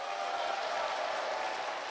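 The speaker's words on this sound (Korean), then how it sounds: "자기 자신을 위해서 한번 커다랗게 박수 한번 크게 부탁드리겠습니다" Dense, steady applause from a crowd, a continuous wash of clapping heard at a moderate distance without pause.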